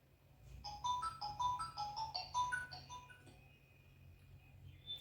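A mobile phone ringtone plays a bright, repeating electronic melody of quick rising and falling notes for about three seconds in a quiet indoor room, then fades out.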